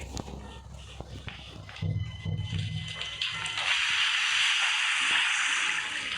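Petrol poured into a boat in the Granny video game, a game sound of liquid gushing and splashing that builds into a steady rushing pour after some shuffling noises.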